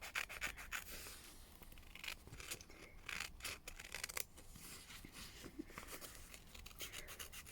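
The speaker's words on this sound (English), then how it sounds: "we're just going to cut out that" Scissors snip and rub through fabric as applique pieces are cut out for a quilt block, with steady quiet blade strokes and cloth rustling close by.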